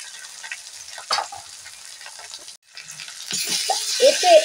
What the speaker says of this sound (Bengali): এতে অল্প পরিমাণে জল দিচ্ছি যাতে মশলাটা ভালো করে ভাজা যায়